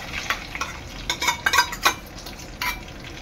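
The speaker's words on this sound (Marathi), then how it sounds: "रवा चांगला 1 ते 2 मिनिटं भाजून घ्यायचा आहे।" Semolina roasting in a dry pan for sheera is stirred with quick, uneven scraping strokes, short bursts of gritty scratching over a faint steady background hiss.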